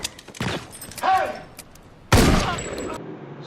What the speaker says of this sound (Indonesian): tiba-tiba sekelompok orang menembaki mereka